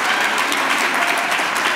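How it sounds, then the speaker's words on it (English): Audience clapping at a fellows' farewell gathering, a steady, dense wash of many hands that stays evenly loud throughout with no talking over it. "We can clap our hands."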